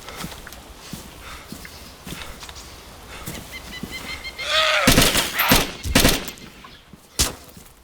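Gunshots in the mobile battle-royale game Free Fire: after a quieter stretch of scattered clicks and footsteps, a loud cluster of sharp cracks bursts out near the middle, followed by a few more spaced shots, with no talking.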